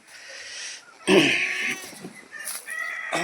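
Chickens on a goat farm clucking and squawking nearby, a loud burst of calls followed by scattered shorter clucks.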